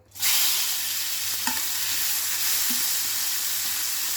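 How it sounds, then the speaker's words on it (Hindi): Prawns hit hot mustard oil in a pan, setting off a sudden loud sizzle that settles into a strong, continuous frying hiss, with a couple of faint utensil taps. "जब तक चिंगुड़ी छेचा के लिए प्रॉन फ्राई हो रहा है"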